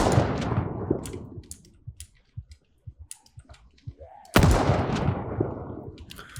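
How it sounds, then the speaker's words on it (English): A heavy shotgun blast in Project Zomboid booms out twice, once at the start and again midway, each with a long decaying tail, while scattered clicks and small impacts fill the gaps between. "Man, that is a meaty shotgun."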